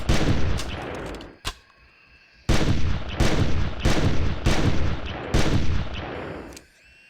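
Gunfire aimed at a Stegosaurus in the video game Carnivores+: a loud shot, a lone crack, then five rapid heavy booms in a row, each ringing out before the next.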